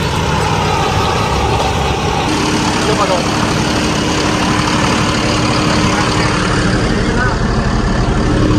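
A John Deere 5405 CRDI tractor engine runs in third gear with a loud, continuous low diesel drone that holds steady throughout. Someone talks over the engine.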